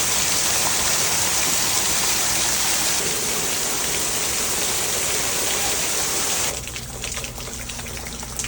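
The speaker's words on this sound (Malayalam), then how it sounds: "It's raining outside." Steady, loud rain falls outside in a dense continuous wash of drops, with no voices, then eases into a lighter patter near the end.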